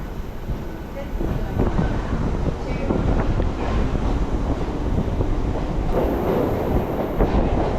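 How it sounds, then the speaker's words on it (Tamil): A Chennai suburban MRTS train rolls into Park station, a steady loud rumble of wheels and carriages with wind buffeting the microphone throughout. "இப்போது ட்ரெயின் உள்ளே என்ட்ராகிறது தான் பார்த்தீங்கன்னா பார்க் ஸ்டேஷன்"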